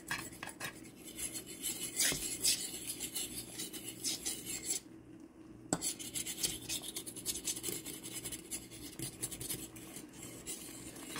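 A fork whisks lumps out of homemade gravy for turkey patties with onions, a steady rasping scrape against the pan that repeats in quick rhythmic strokes, close and faint, with a brief pause midway and no talking.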